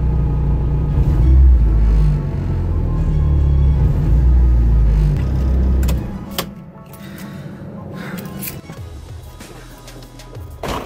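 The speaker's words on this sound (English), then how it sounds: "I have also developed one hell of a rattle in this car" Loud engine rumble with rattling and knocking from inside a moving car with worn-out engine mounts, the droning easing after a few seconds while clunks and rattles continue.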